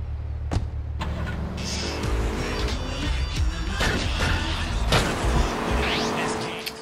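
A car in Grand Theft Auto 3 idles and revs with a steady low engine drone, joined by a door thump and other brief in-game clatter, with no talking.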